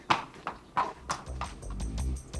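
A horse in a stable clip-clops on a hard floor, with about five distinct hoof strikes at a slow, uneven walking rhythm, close by, followed by a low rumble and shuffling.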